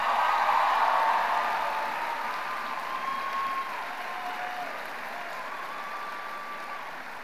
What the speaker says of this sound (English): Let's give a round of applause to Riley Brumbelow and Dakota Jacks for this achievement.